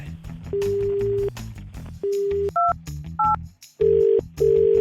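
A run of telephone keypad tones, steady beeps of varying pitch pressed one after another, loud and close, with brief gaps between presses.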